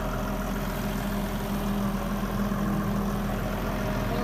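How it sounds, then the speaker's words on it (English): A tractor engine idles with a low, steady chugging rumble, close and continuous, with no voices. "I'm driving a tractor."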